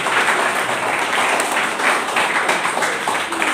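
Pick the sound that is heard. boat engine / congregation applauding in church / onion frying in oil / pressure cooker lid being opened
congregation applauding in church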